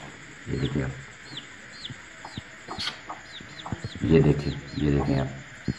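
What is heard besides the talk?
hen clucking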